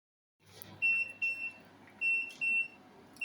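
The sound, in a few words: kitchen timer alarm going off while baking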